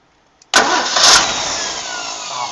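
A barn-find 1960 Ford Falcon Ranchero with a small radiator cranks and fires after a short tick, then settles into a loud, steady, close-up engine roar that holds for about two seconds with slight surges.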